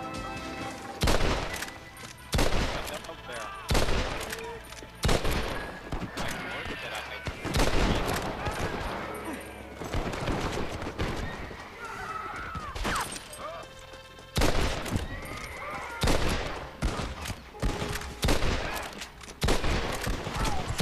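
Shotgun blasts and other gunfire in the video game Red Dead Redemption, loud sharp reports repeating in irregular bursts across the whole stretch, with players' voices talking between and over the shots.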